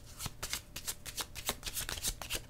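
A deck of cards being shuffled up close, a rapid rhythmic series of crisp riffling flicks with no talking.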